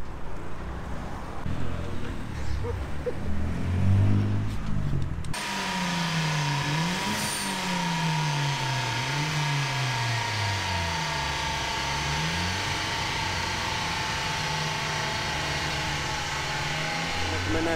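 Car engine on a dynamometer revs up and down repeatedly in rising and falling sweeps after a burst of louder noise with voices at the start, then holds a steady drone.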